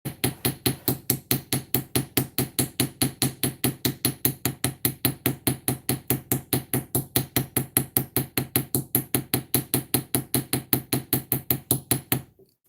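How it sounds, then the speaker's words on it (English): A small-headed ball peen hammer taps repeatedly on a thin piece of wire to texture it, giving a fast, steady stream of sharp metallic strikes for about twelve seconds before stopping, close and clear with no talking. "now from here, I like to come through with my ball peen hammer"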